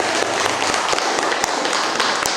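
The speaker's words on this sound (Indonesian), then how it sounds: "Tepuk tangan aja." Scattered applause from a classroom of students, a broadband wash of many hands clapping with a few sharper individual claps standing out, steady and moderately loud for a couple of seconds.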